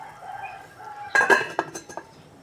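Metal pot lid clatters back onto a cooking pot of salmon soup with mustard leaves, a short cluster of clinks and rattles after quiet background hum.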